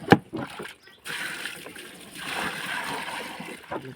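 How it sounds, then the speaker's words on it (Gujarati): Water is poured onto cow dung to mix slurry for a biogas plant, a steady rushing splash lasting a few seconds after a sharp knock, close and moderately loud. "પાણી રેડી દીધું"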